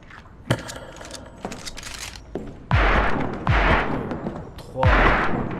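Gunfire in the video game Perception: several loud sharp bursts ring out, with louder shots clustered late in the sequence over a busy game soundscape.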